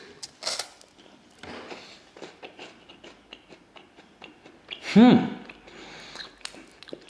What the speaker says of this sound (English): They're just for a tiny little crunch, a light crunch with some sweetness in it.